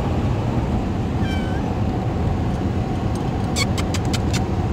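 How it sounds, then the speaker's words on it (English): A cat meows inside a moving car, a single rising call over steady road rumble, with a few brief bright jangling taps near the end. "My Sunny is a special needs kitty."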